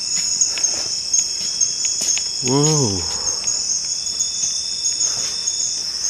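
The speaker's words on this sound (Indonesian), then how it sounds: "suara-suara jangkrik cekrek gitu" Crickets chirp in a forest at night, a dense, steady, loud high-pitched chorus throughout, with one voice briefly exclaiming near the middle.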